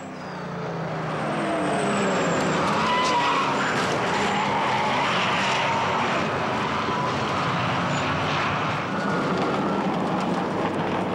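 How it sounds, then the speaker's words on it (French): Race cars, including a Ford Mustang, roar past in a close pack at the Zandvoort circuit during a 2011 RACECAR Series round, a loud, sustained engine drone with tyre skidding that swells and holds steady. "Thiévin et sa Ford Mustang dans un peloton animé partent à la faute."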